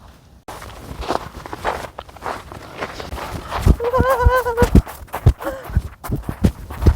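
Footsteps run and crunch through snow at a winter campsite near Jaein Falls. The steps are close, rhythmic thuds, and a short vocal exclamation rises over them midway.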